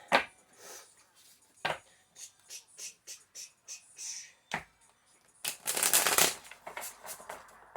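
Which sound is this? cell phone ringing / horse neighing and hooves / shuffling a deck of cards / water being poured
shuffling a deck of cards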